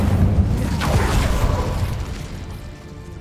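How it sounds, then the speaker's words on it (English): The Incendio fire spell is cast in the Hogwarts Legacy video game: a full, rumbling burst of flame that swells and then slowly fades over about three seconds, with no talking. "Incendio."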